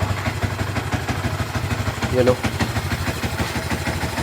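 A Suzuki Raider/Sniper 150 motorcycle, started after long storage, idles with a rapid, even putter that stays close and steady, while someone talks over it.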